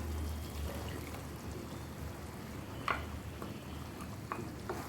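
A spoon stirring Kerala chicken stew with coconut in a pot, soft wet scraping with a few light clinks against the side.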